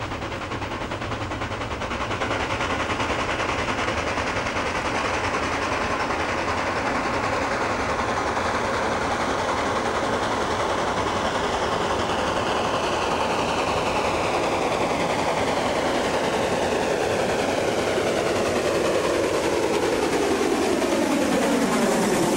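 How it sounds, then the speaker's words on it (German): The Molli narrow-gauge steam train runs along the Baltic coast toward Heiligendamm in a loud, steady roar of rolling wheels and rapid chuffing. It holds for a long stretch with a rising whine at the end and no voices. "Entlang der Ostseeküste dampft der Zug nun Richtung Heiligendamm"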